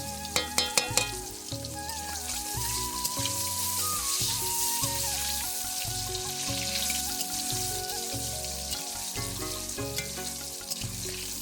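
Dal lightly frying in oil in a kadai for amdal gives a continuous bright sizzle, with rhythmic background music running underneath throughout.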